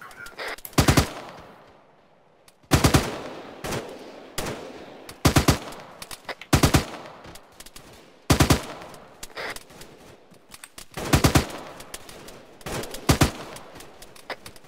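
Bursts of machine gun and rifle fire with tracers during a military-style skirmish crack out in loud, sharp volleys, repeated irregularly with brief pauses between bursts.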